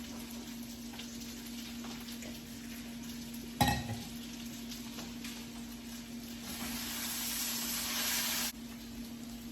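Potatoes fry in a pan with a steady low sizzle, broken by a sharp clatter near the middle and a brighter, louder hiss through the later part before it drops back.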